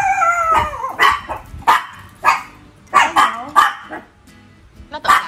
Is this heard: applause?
no